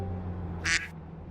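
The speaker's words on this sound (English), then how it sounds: "Oh, we got a duck." A cartoonish duck quacks once in a racing video game, a short bright burst standing out over a steady low engine drone.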